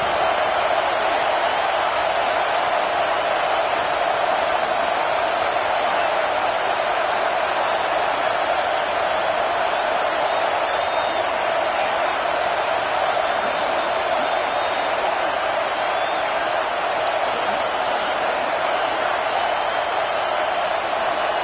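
A football stadium crowd roars during a red zone defensive stand in a Tigers vs Sooners game: a loud, unbroken wall of noise that holds steady for about twenty seconds.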